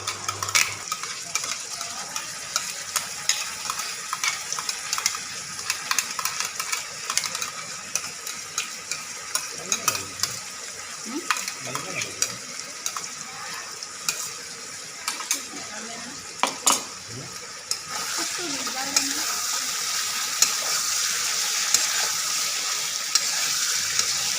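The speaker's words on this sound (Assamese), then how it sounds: "এতিয়া ইয়াতে মই পিচি থোৱা কচুখিনি দি দিলোঁ।" Peeled taro chunks frying with chicken in a pan, sizzling steadily for the whole stretch, with stirring scrapes and clinks of a utensil against the pan, growing a bit louder toward the end; no talking.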